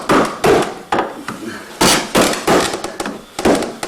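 Hammer blows tapping down the corner of a canvas on a wooden stretcher frame during restretching, a run of about a dozen sharp, close, loud strikes in irregular rhythm.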